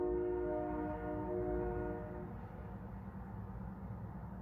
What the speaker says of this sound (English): Wow, he's really laying on the horn.